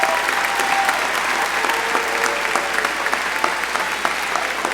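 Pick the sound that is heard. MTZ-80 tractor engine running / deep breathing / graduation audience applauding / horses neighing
graduation audience applauding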